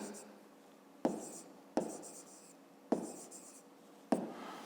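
A pen writes out a math solution on paper: a quiet scratching run, broken by four sharp taps as the pen strikes down, with quiet scraping strokes between.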